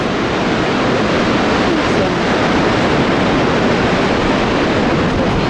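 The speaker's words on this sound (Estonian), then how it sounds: "Norra kõige kaunima kose Vöringfosseni kose juurde, kus siis vesi tuhiseb alla 182 meetri kõrguselt" Vøringsfossen waterfall in Norway roars as water plunges 182 meters, a dense, continuous broadband rush filling the whole scene at high, steady loudness with no speech.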